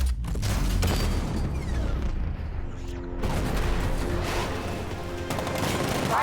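A 60mm cannon fires in the Batman Arkham Knight video game, heavy booming blasts and rumbling explosions that roll continuously, dense and loud, with mechanical clanks layered among the detonations.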